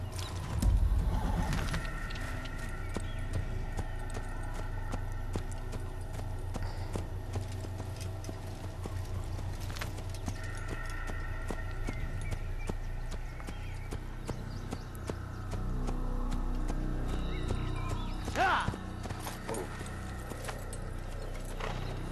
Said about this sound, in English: I'm totally stealing that horse.